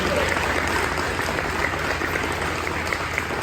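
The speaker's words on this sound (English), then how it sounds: "can we just give them a round of applause?" Steady applause from a crowd at a fundraiser honoring volunteers, dense continuous clapping holding at an even loudness throughout with no talk over it.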